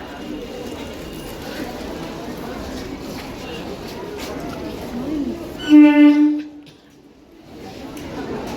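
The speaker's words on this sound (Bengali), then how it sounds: "ট্রেন এসে গেছে" A train pulling into a station gives a short loud horn blast near the end, over a murmuring ambient background and nearby voices talking.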